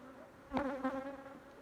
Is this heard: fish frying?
no